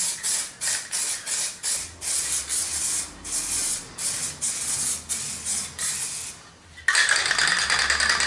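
A spray paint can hisses in short rhythmic bursts while coating the front bar of a Nissan Skyline R33 GTST, close and repeated about a dozen times, then a louder continuous hiss near the end.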